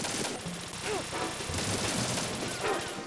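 Enemy gunfire in the video game Metal Gear Solid 2, a steady barrage of rapid shots that runs the whole time, dense and fairly loud over a layer of game sound.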